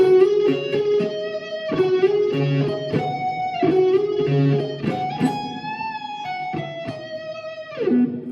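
Electric guitar on the neck pickup playing a flowing melodic phrase with a warm, rounded tone, notes ringing into each other with a few sustained bends.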